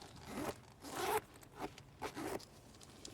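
A zipper on a Dillen double-pocket satchel bag is pulled across in about four quick, raspy strokes, close up and fairly loud, with short pauses between them.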